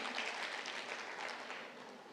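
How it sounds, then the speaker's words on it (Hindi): An audience at an early childhood education event applauds to welcome a guest, a dense, even clatter of many hands heard from a moderate distance that slowly eases off. "जोरदार तालियों के साथ इनका स्वागत कीजिए।"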